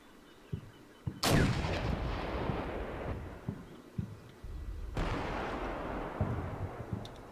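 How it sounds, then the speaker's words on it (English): Ukrainian Oplot tank in a video game firing airburst rounds: two sharp, loud cannon blasts a few seconds apart, each followed by a long rolling boom and decay, with fainter distant battle thumps around them. "The Oplot, I think it's the only Ukrainian tank that has airburst ammo."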